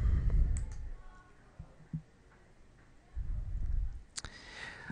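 Computer mouse clicking in Adobe Acrobat while making a PDF accessible, a few faint, sharp clicks spread apart amid soft low rumbles and quiet room noise, nearby.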